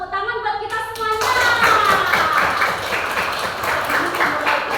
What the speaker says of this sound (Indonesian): Yuk tepuk tangan buat kita semuanya.